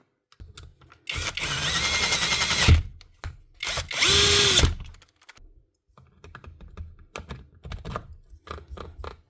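A power drill bolts parts back down during a mechanical repair, with two loud sustained whirring bursts, the second rising in pitch, followed by scattered clicks and clunks of hardware being handled.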